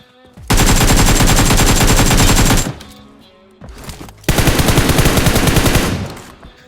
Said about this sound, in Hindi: लेकिन भाई यहाँ पे नीचे से गोली चल रही है।